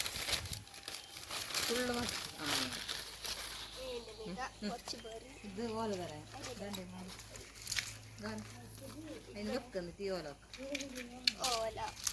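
Newspaper is crumpled by hand to light a fire, giving repeated crackling and crinkling rustles up close, heard under ongoing conversation between people.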